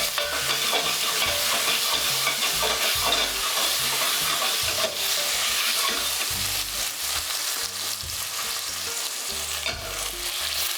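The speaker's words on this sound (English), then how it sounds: "we're just going to add half a teaspoon of turmeric and toast them off" Potato chunks fry with half a teaspoon of turmeric in a pan, giving a dense, continuous sizzle and hiss close by, broken by repeated stirring scrapes and clatters, with no speech over it.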